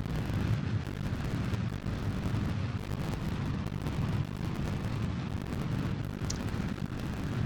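A rocket's upper stage engine firing in Kerbal Space Program gives a steady, dense, rumbling roar that holds at constant loudness throughout.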